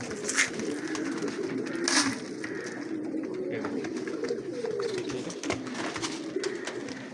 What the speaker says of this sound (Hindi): इजीली बर्ड दाना खाते हैं, कोई टेंशन नहीं है